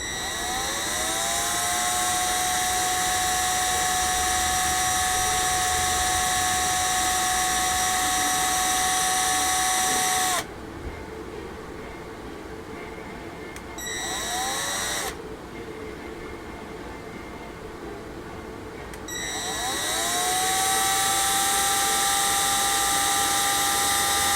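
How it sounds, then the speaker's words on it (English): A drill bores into a plastic model kit for an MPC 10th Anniversary Trans Am with a sustained high-pitched whine. It is close and loud, drops away twice for a few seconds, then spins back up. "letting the drill do its job"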